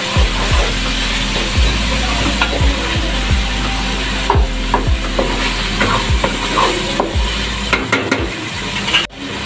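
Tomato masala for aloo chana pulao being stirred in a pan, with a spoon scraping in repeated strokes over a steady low sizzle, close and fairly loud, with no one talking.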